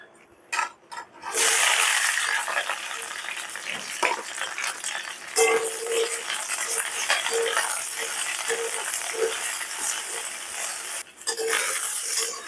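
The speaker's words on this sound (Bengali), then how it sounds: "এখন ক্যাপসিকাম আর পেঁয়াজটা ভেজে নেব।" Onion and capsicum frying in oil in a wok over a high gas flame, a loud, dense sizzle that starts after a few soft knocks and keeps going with faint rattles of stirring, with no talk.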